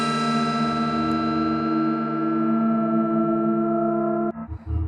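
A sustained, shimmering tone smeared by a long, unusual reverb from the Phonolith Cascade app, harmonics ringing steadily before abruptly cutting off into a brief rumble.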